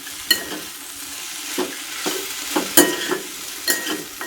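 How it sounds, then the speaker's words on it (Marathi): A mixture with fresh coriander sautés in a pan, giving a soft continuous sizzle near the mic, punctuated by irregular scraping and tapping of a spatula stirring, with no speech. "त्याच्यामध्ये कोथिंबीर टाकली आणि हे परत परतून घेते"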